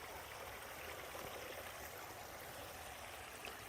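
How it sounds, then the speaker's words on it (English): A small waterfall at a springtime deer camp pond spills with a faint, continuous hiss and trickle, an even flowing wash heard close with no voices. "You have lots of water flowing today, man. This got our own little waterfall there."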